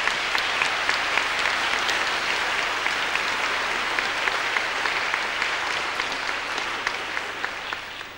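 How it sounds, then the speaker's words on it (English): Sustained applause from a concert audience for a school choir fills the hall evenly, dense clapping holding steady for several seconds before easing slightly at the end. "I'd like you to join me in giving the choir another round of applause"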